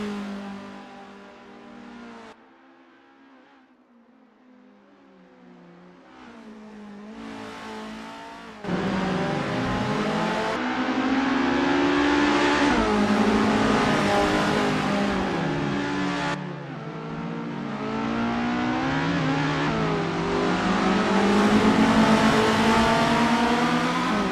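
A vintage Isuzu Bellett GTR race car in Assetto Corsa, a driving game, on an outlap at Autodrom Most: the engine revs and climbs through gears, dropping quiet briefly before a loud, sustained run of acceleration.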